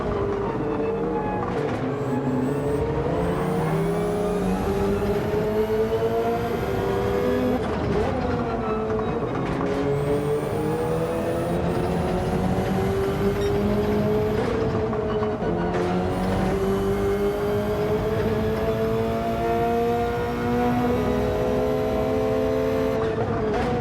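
Race cars in the final lap of a Gran Turismo 7 race: a steady, loud engine drone with rising and falling pitch as the cars accelerate and shift gears, continuous throughout with no talk.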